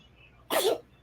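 A single sudden, sharp sneeze bursts out close by in an otherwise quiet indoor room, lasting a fraction of a second.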